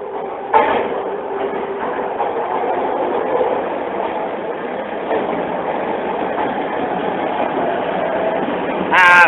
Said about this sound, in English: Either way, I'm missing the tram.